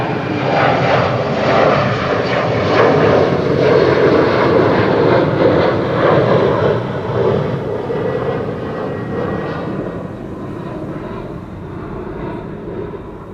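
A jet airliner departs from a runway at Amsterdam Schiphol airport, its engine roar loud and sustained, then slowly fading as the aircraft climbs away, heard alone without talk.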